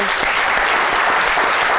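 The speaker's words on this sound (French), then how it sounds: "on va se lever et on va applaudir pour vous" An audience gives a standing ovation during an interview event, loud dense applause filling the room continuously and close.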